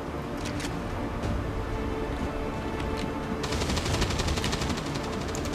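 Gunfire in XCOM 2: War of the Chosen comes as a dense, steady crackle of automatic shots, and a sharp burst of rapid reports near the end sounds alone with no voices.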